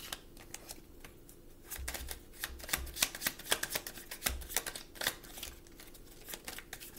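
Tarot cards shuffled by hand, a fast run of crisp riffling flicks and soft slaps, close and moderately quiet, with a few louder bursts as cards slip out of the deck.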